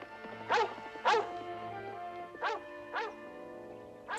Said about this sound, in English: And now the dog's chasing him away.